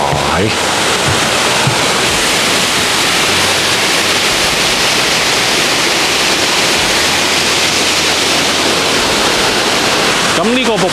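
A loud, roaring waterfall in Mt Field National Park, Tasmania, fills the scene with dense, continuous rushing water, close and steady throughout.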